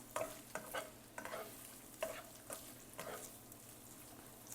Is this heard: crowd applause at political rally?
no